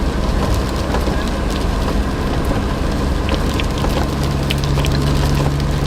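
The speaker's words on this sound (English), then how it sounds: "Just like hearing the sound of rain" Steady rain falling on a vehicle during a road trip, a dense, loud and continuous patter with a low hum running beneath it.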